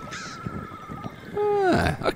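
Game birds in the survival video game The Survivalists cry out in a few harsh, crow-like caws, the last call louder and closer, drawn-out and sliding downward.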